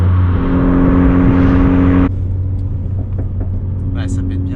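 A Renault Sport Trophy with its exhaust valves open runs loud and close, a steady engine drone that drops off after two seconds into lower rumble with a few light pops and crackles behind.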